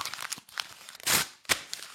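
Paper crumpled by hand for a percussion sample, close crinkling and rustling with two louder scrunching bursts, no talk.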